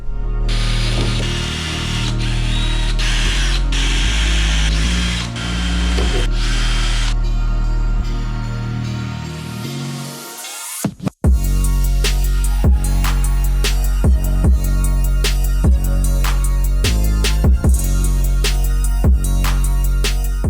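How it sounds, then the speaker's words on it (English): A power drill whines continuously for several seconds while drilling holes in a BMW 335i body for a widebody kit, then after a brief pause comes a series of short, repeated bursts of drilling and tool clatter. "let's get drilling."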